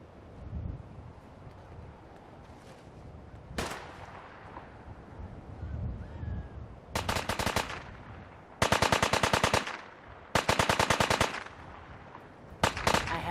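Bursts of automatic gunfire from the video game Fallout 4, with a single loud shot followed by several long rapid-fire volleys at close range, separated by brief gaps of ambient noise.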